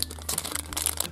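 Brief crinkling of a plastic packet of fruit pastilles from a Kinder Surprise egg, a few soft rustling crackles close up and fairly quiet.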